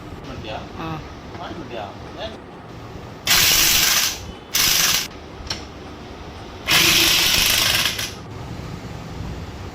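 Mechanics assemble a Toyota Etios front shock absorber, with loud bursts of whirring ratchet and impact-tool sound in three separate runs over lighter clinking, while someone talks in between.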